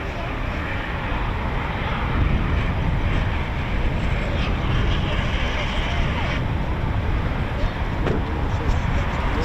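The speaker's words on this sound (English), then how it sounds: "So the Typhoon family version, it's a Typhoon T3." A Eurofighter Typhoon T3, the dual-control trainer jet, flies near RAF Coningsby, giving a steady broadband roar. Wind buffets the microphone, and the sound holds at a fairly even level for the full nine seconds.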